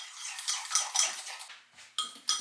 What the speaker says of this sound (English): I ended up using a little bit of a whisk on there